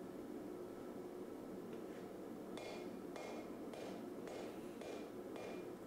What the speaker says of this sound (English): Now it's over to the anvil once we've got it kind of drawn out. Just sort of straightening out everything right now